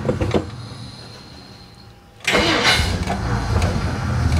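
A 1957 Plymouth two-door barn find, parked over twenty years, cranks weakly for about two seconds, then catches and roars into a loud, steady running engine close by.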